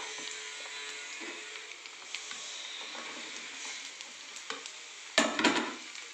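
Sliced capsicum stir-fries with browned onions in a pan for paneer chilli: a steady close sizzle with soft stirring scrapes, then a louder hissing burst near the end as the vegetables are tossed.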